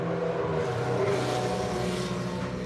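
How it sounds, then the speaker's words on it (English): Cars pass outside a house in Toledo as a steady, loud rumble of traffic, with engine and tyre noise swelling and fading and no talk over it. "you hear cars, get used to it."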